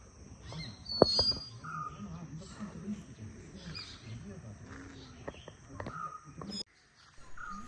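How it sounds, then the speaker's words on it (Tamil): Parrots and sparrows call in a garden in the morning, with faint scattered chirps and tweets over a low, soft background. "கிளியிலேருந்து சில குருவிலேருந்து எல்லாமே வரும் சத்தம் கேட்குது பாருங்கள்"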